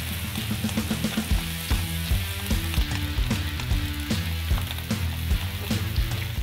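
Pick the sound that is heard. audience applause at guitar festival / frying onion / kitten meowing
frying onion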